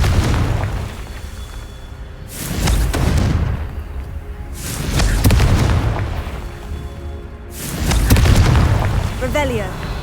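Three deep, booming Confringo spell explosions in a video game go off at regular intervals a few seconds apart, each rolling on loudly before easing off.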